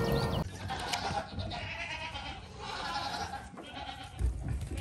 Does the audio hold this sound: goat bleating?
yes